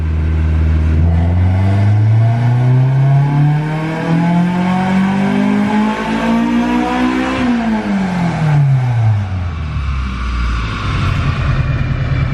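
Honda Civic EK with a B18 VTEC engine pulling in third gear on a dyno, loud and close, climbing steadily to a high wailing peak before dropping sharply back down.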